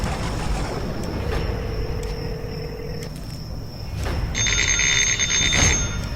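A telephone rings with a bright, trilling electronic tone that starts partway through, over a low background rumble and a few soft clicks.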